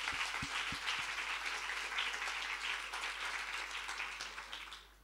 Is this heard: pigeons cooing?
no